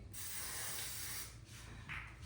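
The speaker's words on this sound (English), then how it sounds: "I'm gonna spray it a little bit too" Hairspray hisses from an aerosol can onto styled spiral curls, one long continuous spray lasting about two seconds, close and steady with a brief dip before a final burst.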